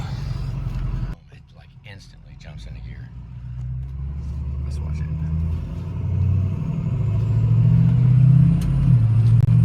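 A truck with a broken valve spring rumbles low and steady from inside the cab, the engine note rising gradually as it accelerates, while people talk over the drone.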